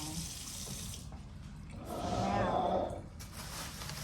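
Tap water runs into a container to fill a waterline higher, a steady splashing flow that swells louder in the middle of the clip and then eases back.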